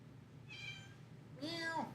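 A cat gives two short, faint meows about a second apart over low background hum, indoors during a casual show.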